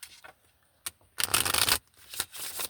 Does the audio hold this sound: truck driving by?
no